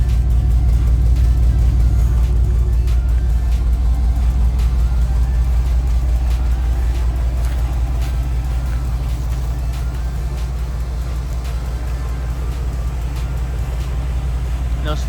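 A pickup truck engine running rough, a loud, low rumbling idle that stays steady and close throughout, with a slightly uneven pulsing texture and no voices over it.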